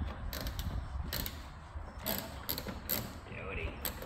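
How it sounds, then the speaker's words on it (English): A 3/8-inch stubby ratchet clicks in short bursts while removing trim screws on a 2007 Ram 2500 Cummins truck, close by, with quiet creaks and handling sounds between strokes. "I just got my little 3/8 little stubby ratchet handle thing"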